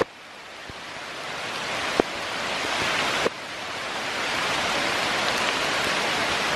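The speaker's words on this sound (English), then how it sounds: "It's raining profusely, I guess you might say" Heavy rain pours down on an RV park along the New River in Virginia in a dense, steady hiss, with a few sharp taps and knocks cutting through the downpour.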